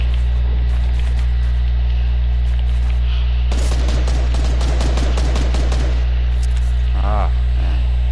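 A rapid burst of gunfire rattles out in a shooter video game, a dozen or so sharp cracks in quick succession over a steady electronic hum, followed by quieter scattered game sounds.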